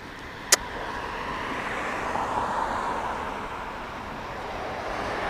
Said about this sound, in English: Traffic keeps coming.